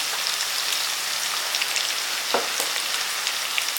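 Green chillies and curry leaves frying in hot oil for a Tamil brinjal chutney, a steady close-up crackling sizzle with a few louder pops, no voices.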